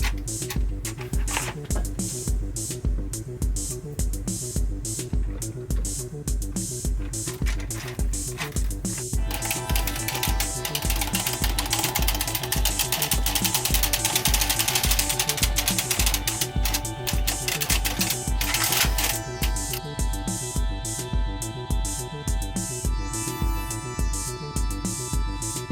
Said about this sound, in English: I was just working on my knitting machine project